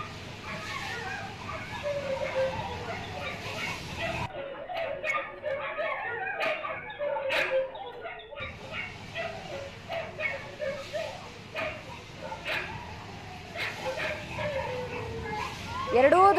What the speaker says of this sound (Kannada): ತನ್ನ ಪಾಡಿಗೆ ತಾನು ನಡ್ಕೊಂಡು ಹೋಗ್ತಾ ಇದ್ದ ಯುವತಿಯ ಮೇಲೆ ಏಕಾಏಕಿ ನಾಯಿಗಳು ಅಟ್ಯಾಕ್ ಮಾಡೋದಕ್ಕೆ ಶುರು ಮಾಡಿವೆ